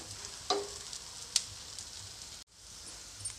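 Rava dosa frying in oil on a hot pan gives a steady, close hiss and sizzle, with a couple of brief crackling pops over the quiet background and no voices.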